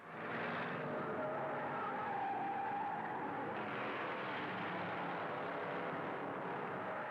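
NASCAR Grand National race cars at the 1962 Daytona 500 give a steady, loud roar of engines with a rasping, skidding edge, a dense wash of car noise held throughout without talk.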